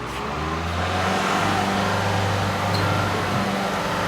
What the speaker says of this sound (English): And you can give her a little gas, Matt.